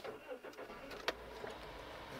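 A manual-transmission car pulls away in first gear, its engine a faint low hum with a brief sharp bump partway through, quiet and close inside the cabin.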